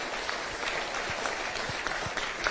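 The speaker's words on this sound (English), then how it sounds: "Please give them a warm round of applause." An audience claps at a UN Day 2020 commemoration ceremony in Suva, Fiji, a moderate, continuous patter of many hands with a few sharper individual claps standing out, steady in level from start to finish.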